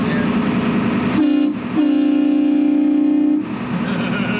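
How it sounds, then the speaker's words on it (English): A deep, loud pull-cord train horn on a truck blasts twice, a short toot followed by a longer sustained blare, over a rumbling engine idle. "The train horns work too. It's the actual pull cord like the big truck."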